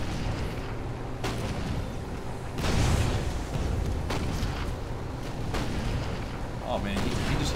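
Enemy gunfire and booming shots in Toy Soldiers, a game featuring a zeppelin and landship tank, thud repeatedly in irregular bursts with a heavier blast near the middle, under ongoing game noise and talking.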